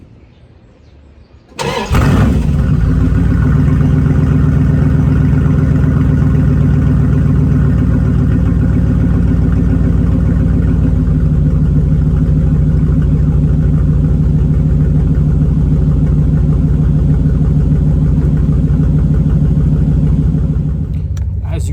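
A 2001 Ram 1500 pickup with a 5.9 liter V8 and no muffler fires up after a brief quiet moment, then holds a loud, deep, steady rumbling idle close by for the rest of the clip.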